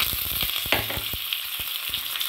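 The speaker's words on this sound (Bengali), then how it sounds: "এতে আমি সর্ষে দিয়ে দিলাম, একটা শুকনো লঙ্কা, চানা ডাল, উড়ার ডাল আর কারি পাতা।" Mustard seeds, a dried red chilli, chana dal, urad dal and curry leaves sizzle in hot oil in a frying pan, a close, continuous crackle broken by sharp pops and spits, with no voices.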